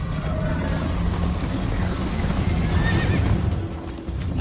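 A horse in Minecraft: Story Mode whinnies loudly over rapid clip-clopping hooves and a rushing, busy background.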